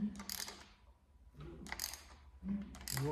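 A hand ratchet clicks in short bursts while turning over a small block Chevrolet engine, three separate runs of rapid close ratcheting ticks with pauses between.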